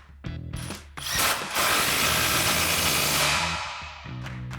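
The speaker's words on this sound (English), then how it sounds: "we'll come back and tighten down our factory clamp on our H-pipe," A power socket tool with a 15 mm socket tightens the factory exhaust clamp on the H-pipe of a 2005-2008 Corvette, giving short bursts and then a sustained close whirring grind that eases off near the end.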